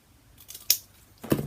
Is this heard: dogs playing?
no